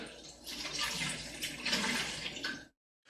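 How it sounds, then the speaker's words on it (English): Cold water pours into a Mr. Beer keg fermenter, a continuous splashing, gurgling fill for about two and a half seconds that then stops abruptly, heard up close and fairly quiet. "Fill the keg to the 4-quart mark."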